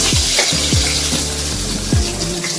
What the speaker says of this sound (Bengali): এই যে সব মাছ ভাজা হয়ে গেল